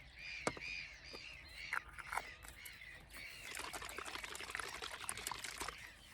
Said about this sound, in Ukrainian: Відкриваємо ліквід, доливаємо до повної баночки воду.